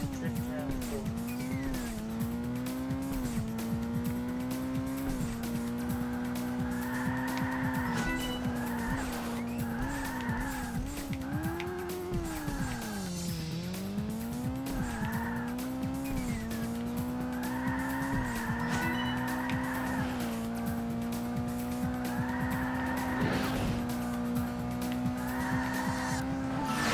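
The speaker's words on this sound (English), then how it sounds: "Race drift around the corner." In the racing video game Burnout 2: Point of Impact, a car drifts around corners with a sustained engine drone and repeated tire squeals, while a voice talks over it.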